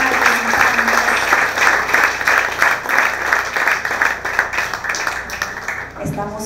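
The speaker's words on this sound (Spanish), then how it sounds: "Fuerte el aplauso para los dos secretarios." Loud, continuous crowd applause at a regional final award ceremony in Guna Yala, steady clapping from a large audience lasting about six seconds before tapering off.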